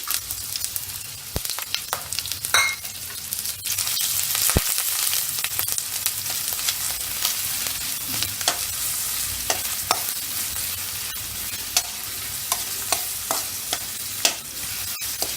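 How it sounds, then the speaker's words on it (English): Onion sautéing in a pan over a medium flame, a steady close sizzle and fry with scattered scraping clicks from stirring, no voices. "Saute the onion till it become little bit of pink in red in color"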